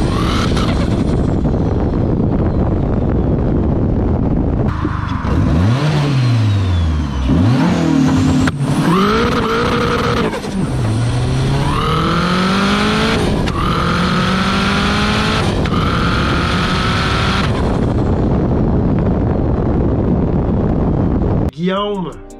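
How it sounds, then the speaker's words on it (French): Tuned car engine with a turbo revving hard: loud, sustained roar with rising and falling pitch sweeps over several pulls, then a sharp turbo whoosh and cutoff at the end. "c'est le seul turbo qu'on a entendu gueuler de cette façon."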